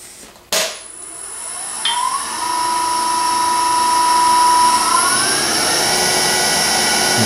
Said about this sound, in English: I'm just going to use a skew chisel.